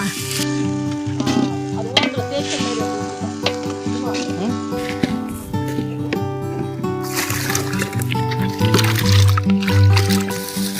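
Country chicken biryani being stirred with a ladle in a big pot at an outdoor feast in a cashew grove, a steady sizzle and scraping under ongoing background noise and hum.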